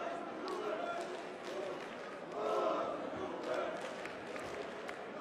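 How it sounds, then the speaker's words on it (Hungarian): A German darts crowd at the 2022 Grand Prix final between Martin Lukeman and Luke Humphries chants Lukeman's name, a sustained murmuring roar of many voices that swells briefly midway, with no clear individual speech. "Az ő nevét skandálják néhányan a háttérben."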